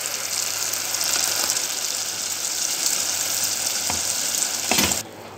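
Tomato juice hits a hot frying pan with onions, giving a loud, rushing sizzle that swells briefly near the end and then drops away sharply.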